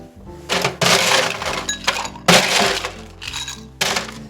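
Ice grabbed and dropped for a Gimlet cocktail, with loud, close bursts of rattling, clinking cubes in several separate handfuls and short pauses between them.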